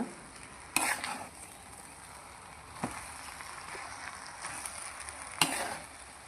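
Fried rice and masala tossed in a hot pan, a continuous close sizzle with a metal spatula scraping and clanking against the pan every few seconds, with no one talking.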